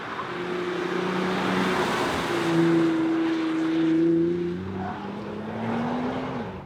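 A 2020 Nissan GT-R 50th Anniversary Edition with a 3.8 litre twin turbo V6 is driven, the engine droning steadily as its pitch climbs, eases and climbs again through the gears, with no talk.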